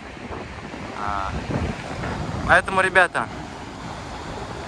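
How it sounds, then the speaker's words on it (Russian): Strong ocean waves breaking on a beach at Mar del Plata, a broad roar with heavy wind buffeting the microphone while someone speaks briefly over it. "Волны достаточно сильные."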